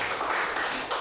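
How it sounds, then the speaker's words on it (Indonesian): Brief burst of audience clapping during a teachers' learning-community session at an Indonesian elementary school, UPTD SDI Bertingkat Kelapa Lima 3; a continuous, moderately loud patter of many hands, with no talk over it. "tepuk tangan dulu untuk kita"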